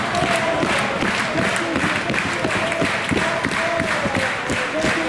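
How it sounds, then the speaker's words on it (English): Wrestling arena crowd cheering and clapping throughout a match, a loud sustained roar with rhythmic hand claps and shouts, while a commentator talks over it. "Bad Bones getting this crowd rallied behind him."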